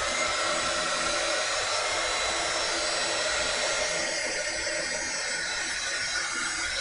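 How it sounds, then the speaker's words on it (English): A heat gun blows close and loud onto an art journal page, giving a steady, broad whooshing hiss that stays constant throughout. "Let's hit it with the heat gun."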